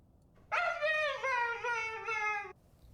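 A dog in a bathtub howls and whimpers in one drawn-out, wavering cry lasting about two seconds, loud and close, with no other sound around it.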